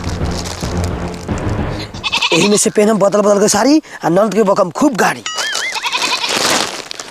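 Goat bleating repeatedly and loudly near speech in a Bhojpuri comedy sketch, a run of wavering bleats in the middle following and overlapping talk, with another bleat-like cry near the end.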